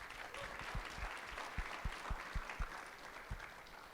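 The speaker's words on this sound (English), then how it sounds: "so just a round of applause" Audience applause for a panelist at an intellectual property summit: a moderate, fairly distant crowd of clapping with some individually distinct sharp claps standing out in an irregular rhythm.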